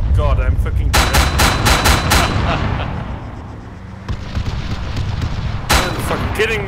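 Automatic gunfire from a Raider vehicle in Arma 3, a loud rapid burst of about half a dozen close shots, then rumbling noise and another burst near the end, with voices mixed in.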